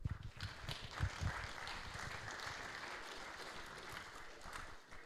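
An audience at the CERC 2019 opening ceremony in Prague applauds in a faint, dense patter that holds steady for several seconds, sounding distant and soft.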